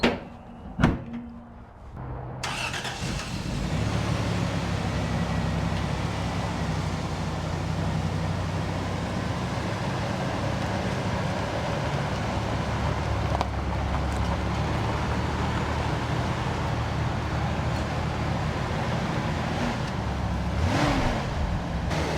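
An old high-mileage pickup truck with about 268,000 miles idles smoothly and steadily at close range after a few thuds at the start, its low engine drone continuing without people talking.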